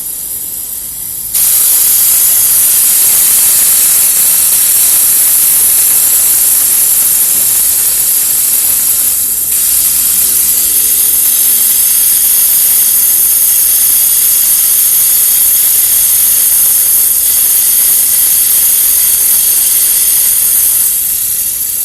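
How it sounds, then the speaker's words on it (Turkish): Air hissing out of an opened bleed valve on a car's cooling system, a loud steady rush of escaping pressure that starts abruptly and continues unbroken with slight surges, close by and alone. "Şuradaki havalandırma tahliye sibobunu açarak havasını alabiliyoruz."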